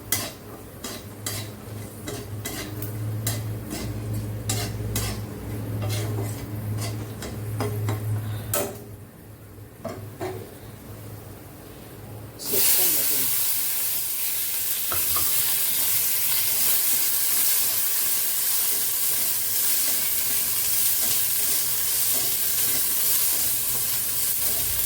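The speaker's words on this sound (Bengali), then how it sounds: "বাদাম আর সুইট কর্ন ভাজা হয়ে গেছে" Peanuts and sweet corn fry in a pan while a utensil stirs and scrapes, with rhythmic clinks and a steady sizzle that turns into a louder, broader hiss partway through.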